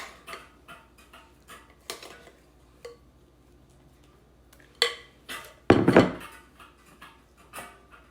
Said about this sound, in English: Scout comes in here and he starts rattling his bowl like he's hungry when I've already fed him.